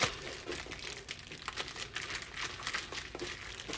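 A Ziploc bag crinkling continuously as air is squeezed out of it, soft and close, with rapid papery crackles and no voices.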